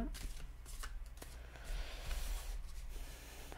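Tarot cards are shuffled and handled in quick, close rustling bursts and soft flicks, with a quiet voice speaking intermittently.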